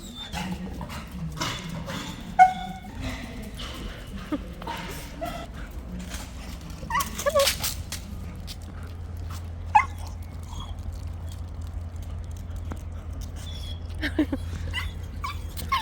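A puppy in a metal workshop whimpers and lets out high yips, scattered soft cries amid people talking and occasional clatter, with a low steady hum underneath.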